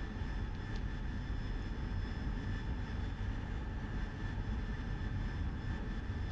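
AV-8B Harrier jet engine in DCS during a take-off run, a steady loud roar with a whining tonal hum held constant over the whole stretch.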